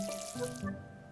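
Water pours from a watering tool onto a farm plot in the video game Paleo Pines, a soft, faint splashing trickle with a light tonal ring over it, heard alone for about a second.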